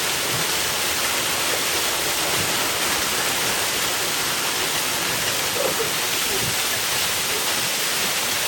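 A loud, steady roar of falling water from a waterfall in Araku fills the air without a break, dense and close, drowning out any other sound.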